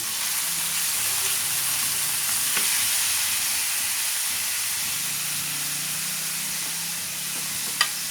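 Chopped onion and ginger sautéing in a pan with hot oil for a banana heart dish, giving a steady, continuous sizzle and hiss close by, with a couple of faint clinks and no talking.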